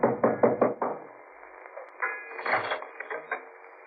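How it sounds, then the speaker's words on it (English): Knocking on a wooden door in an old-time radio mystery drama at a seaside boat-hire landing: a quick burst of four or five firm raps, a pause, then a second softer, scattered run of knocks, close and alone. "I knocked for Peterson."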